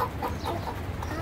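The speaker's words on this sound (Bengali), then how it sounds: "অষ্টলাভ মুরগি" Australorp chickens cluck steadily and close by, a busy overlapping flock chatter with low farmyard noise underneath, during a severe heatwave in Bangladesh.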